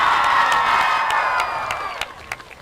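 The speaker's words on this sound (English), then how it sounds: "everyone cheer for girls golf" A school crowd at a high school game-day rally cheers and whoops loudly for the girls golf team, the sustained roar fading into scattered claps and shouts.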